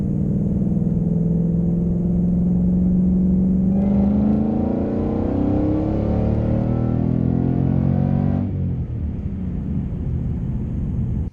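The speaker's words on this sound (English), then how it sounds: "So today is all about hearing that supercharger whine." A supercharged 2022 Ford Mustang GT with a ROUSHcharger drones while driving, its pitch rising and settling through gear changes, loud and close, with a faint high supercharger whine over the rumble.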